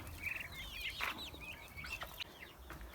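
A hen clucks after laying an egg in a coop, a few sharp excited clucks and squawks near the mic over a low farmyard hum, no voices.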